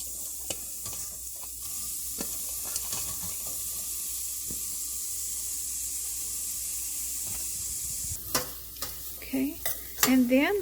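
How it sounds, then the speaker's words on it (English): Chopped onion cooks gently in about a tablespoon of oil over a low flame, giving a soft, even sizzle, with a few spoon scrapes and stirring clatters toward the end. "we are going to let the onion cook until it is golden brown on a low flame"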